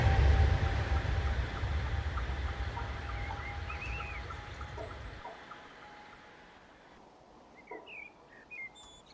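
An H5 Shinkansen on the Tohoku high-speed line, heard as a low, steady rolling rumble that fades away midway, leaving a quieter ambience with a few chirping birds.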